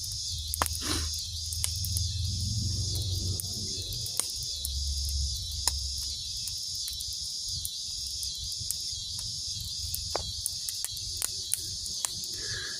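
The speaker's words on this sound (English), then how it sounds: "Man, them cicadas are out now." A dense, continuous outdoor chorus of cicadas buzzes steadily from nearby trees, with faint scattered ticks and rustles underneath.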